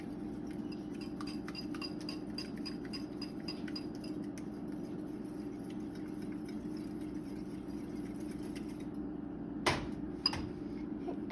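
Eggs seasoned with plenty of pepper are whisked in a bowl, giving a steady run of light utensil clinks and taps against the bowl, with a couple of sharper knocks near the end.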